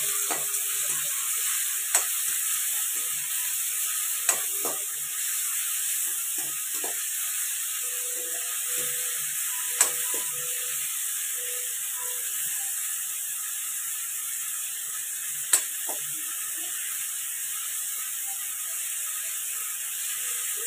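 Potato pieces cook in oil with salt for sabudana khichdi. A soft, steady sizzle runs throughout, broken by a few sharp clicks and light clinks.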